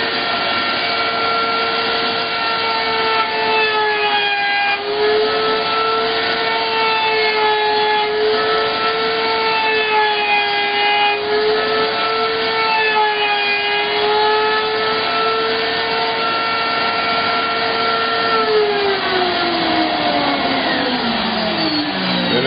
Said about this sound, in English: then I route the outside edge.